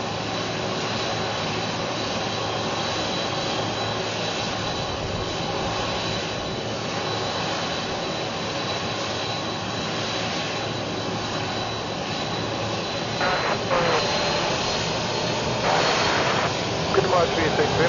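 A KLM Boeing 747 jet taking off from St. Maarten, heard as a steady, loud engine roar that swells slightly toward the end, with radio voices over it.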